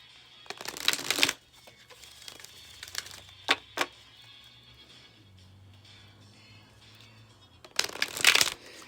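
A Gaia Oracle card deck is shuffled by hand in two crisp riffling bursts, one early and one at the end, with a few light card taps between them, close and clear against quiet.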